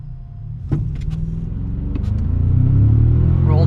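A 2025 Toyota Tacoma TRD Pro launching hard from a standstill, its engine and drivetrain rumble swelling steadily louder as the truck accelerates, with a brief clunk early on and rising whine over the low roar.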